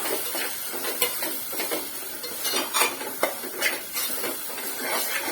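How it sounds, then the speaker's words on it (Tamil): A spoon stirs ginger-garlic paste through tomato masala in a pan for a mushroom gravy, giving a steady sizzle broken by scattered scrapes and clinks of metal on the pan, close and fairly loud with no talking. "இஞ்சி பூண்டு பச்சை வாசம் போற வரைக்கும் ஒரு நல்லா பெரட்டி எடுத்துக்குங்க"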